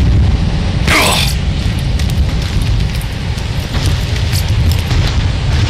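A single explosion in Borderlands 2 goes off early as a sharp broadband burst, then decays into a continuous loud rumble of game ambience and mechanical noise.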